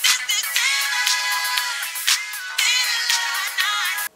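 A mobile phone ringtone plays alone, a bright repeating electronic melody that goes on for about four seconds.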